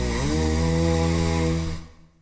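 A mouth imitating a kazoo gives one sustained, buzzy, nasal drone with a rich stack of harmonics, loud and steady before it fades away.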